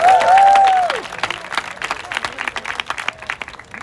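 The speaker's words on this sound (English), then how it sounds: "give them a round of applause for that" A crowd at a school awards night applauds the boys' runner-up team, scattered close claps with a few cheers after a loud opening whoop, tapering off.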